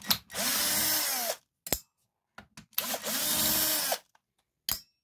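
A power drill removing screws from a DeWalt split boom XR 54V Flexivolt tool whirs loudly in two long bursts, with short clicks and brief trigger blips between them, close up.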